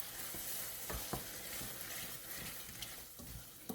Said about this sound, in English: I'm going to add a generous portion of chopped garlic.